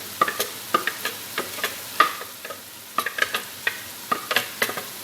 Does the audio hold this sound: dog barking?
no